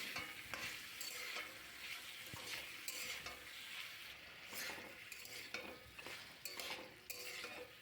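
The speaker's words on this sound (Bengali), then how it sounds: "লবণ হলুদ দিয়ে কিছুক্ষণ তেলের মধ্যে নাড়াচাড়া করে নেব।" Thinly sliced medium potatoes with salt and turmeric stirred in hot oil in a pan, a continuous bright sizzle broken by repeated scraping strokes of a spatula, close and steady throughout.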